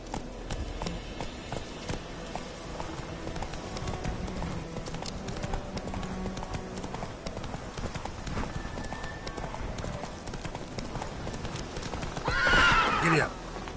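Galloping horse hooves clip-clop in a steady fast rhythm in the Witcher 3 video game, with a whinny near the end, amid game ambience and a spoken voice.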